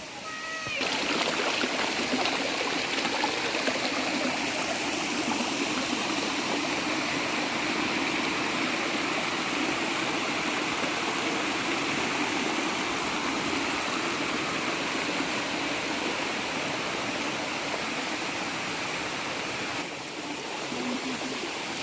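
Stream water rushes steadily beside a single-track bridge in Meghalaya, a dense, loud, continuous roar that stays constant throughout, with faint voices barely noticeable beneath it.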